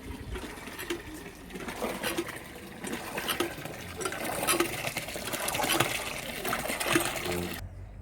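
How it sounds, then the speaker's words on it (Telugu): Water from a bucket pours and trickles onto drying garden plants in a steady splashing stream that runs for several seconds, with faint voices in the background, then cuts off abruptly. "కనకాంబరాల చెట్టుకి నీళ్ళు పోస్తుందా"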